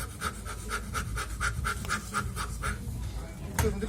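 Breath of fire performed by a man warming up after thirteen minutes frozen in ice: a quick run of about ten forceful, evenly spaced panting breaths over background noise, ending with a sharp sound.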